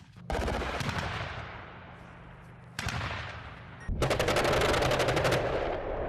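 Heavy bursts of artillery gunfire and booming blasts roll across open ground at a military exercise, loud and sustained, with a fresh volley starting each time the firing pauses.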